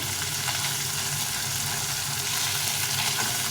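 Bata fish frying in hot oil, a dense continuous sizzle and crackle that stays loud and even for the whole stretch.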